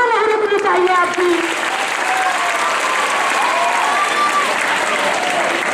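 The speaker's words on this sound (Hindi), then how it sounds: "तालियां नहीं रुकनी चाहिए आपकी।" Audience applause fills a prize distribution function for a GK competition, a steady dense clapping throughout with faint voices talking over it.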